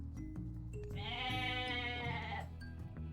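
A goat bleats once in the real-time strategy game Age of Mythology, a long wavering in-game call rising over a steady game soundtrack and ambience, loud and close with no talking.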